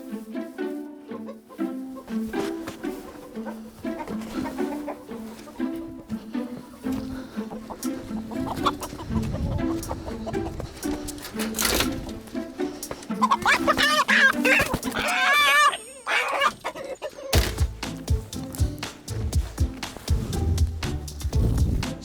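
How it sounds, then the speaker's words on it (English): Chickens loose outside their coop on a winter homestead cluck and squawk at various points, mixed in with handling noise, rustling and clatter, with no clear talking. "A few of the chickens are out of the coop"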